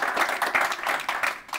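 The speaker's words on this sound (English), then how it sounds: "So can we get a quick round of applause for our people?" An audience at a school choice panel gives a quick round of applause, light scattered clapping at moderate distance that tapers briefly near the end.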